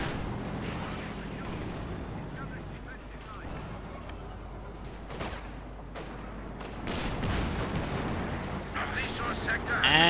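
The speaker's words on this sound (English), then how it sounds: "a lot of rockets flying against the Sherman there" Rockets fired at a Sherman tank in the Company of Heroes 2 strategy game, with rumbling launches and explosions building toward the end beneath a voice talking over the battle.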